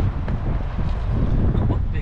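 Heavy wind on the Detroit River buffets the microphone with a steady low rumble and gusts over lapping water during a fishing trip.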